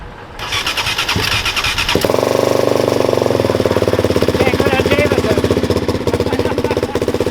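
A loud sport quad engine rumbles close by, first revving unevenly and then settling into a rapid, throbbing idle that carries on steadily.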